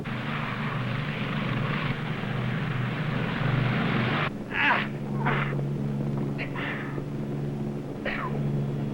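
Steady droning rumble of Navy P2V Neptune aircraft engines in flight, loud and continuous throughout with a low harmonic hum, joined by faint intermittent higher noises in the second half.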